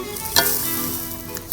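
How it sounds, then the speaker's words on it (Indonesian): Jawar sautéed with ground spices and a little water in a pan, a close, steady frying hiss with two brief sharp scrape-like bursts, no voices. "Jawar ditumis hingga berubah warna menjadi kecoklatan dan hingga bumbunya meresap sempurna"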